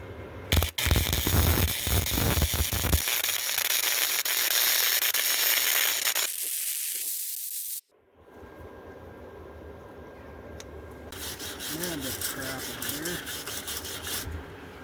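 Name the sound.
welding on a motorcycle part through paint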